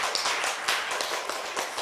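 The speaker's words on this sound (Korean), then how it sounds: "박수 한번 하겠습니다" Church congregation giving a round of applause, dense rapid clapping from many hands, close and fairly bright, continuous through the short stretch without talk.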